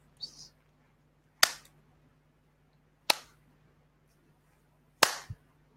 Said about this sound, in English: Now this is a good time to clap 3 times